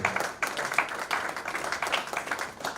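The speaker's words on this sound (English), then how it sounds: "Another round of applause for Mr. David." Applause from a conference audience for a speaker at a maintenance and reliability conference in Africa, a steady patter of many hands clapping at moderate level throughout, with a few sharper individual claps standing out.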